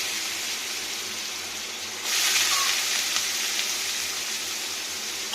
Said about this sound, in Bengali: এবার এই আলু, গাজর, বিটস এখানে দিয়ে নেব ভাজা করার জন্য।